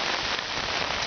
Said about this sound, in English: Hoping it stops raining.